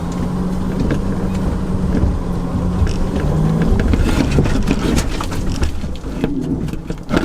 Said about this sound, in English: Ooh, loose gravel.